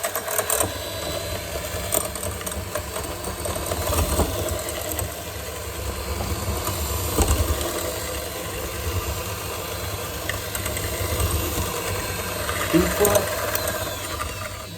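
A close, steady electric mixer drones and vibrates while creaming sugar and butter for a chocolate cake, the motor holding an even pitch for the whole stretch with small bumps as the beaters knock the bowl.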